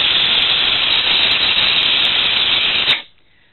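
Compressed air blasting steadily into a lamp's cooling fan, a loud continuous hiss with a high squealing edge that holds for about three seconds, then cuts off abruptly to near silence.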